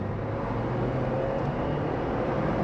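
A 2024 GWM Tank 300 Ultra Hybrid pickup with a 2.0-litre turbo hybrid drivetrain accelerates in sport mode, heard from inside the cabin as a steady broadband drone of engine and road noise, with no voices.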